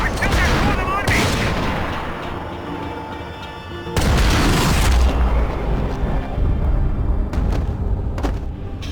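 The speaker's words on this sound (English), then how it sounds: "Shoot, Max, shoot" Heavy gunfire and booming blasts in Max Payne 3 during a stairwell firefight, loud continuous volleys with a brief lull before a second intense burst and scattered sharp shots.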